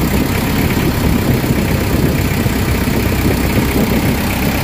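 Nissan Vanette van engine idling up close with steady low rumble and dense vibration, continuous and loud throughout, with no talking.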